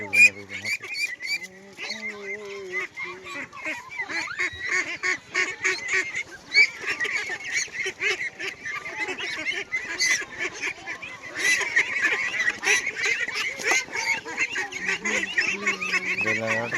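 Loud, continuous quacking from a flock of ducks close by, with overlapping calls throughout and a person speaking now and then.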